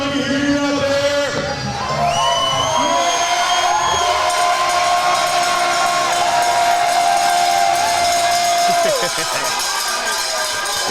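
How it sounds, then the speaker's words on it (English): A rowdy crowd at a BCM Promotions fight night roars and cheers continuously, with shouts and whoops over loud amplified sound in a large arena. "Listen to the crowd."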